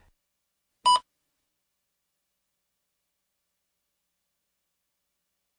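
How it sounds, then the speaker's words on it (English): A single short electronic beep sounds once, clean and isolated, marking the start of a TOEFL speaking response, followed by silence. "Please begin speaking after the beep."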